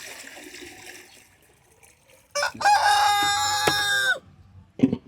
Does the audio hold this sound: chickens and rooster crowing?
yes